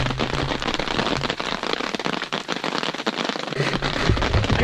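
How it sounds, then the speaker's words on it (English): Heavy rain pours down at a hunting spot, a dense, loud, continuous hiss with crackling drops pattering on a nearby surface. "it's pouring rain as you can hear."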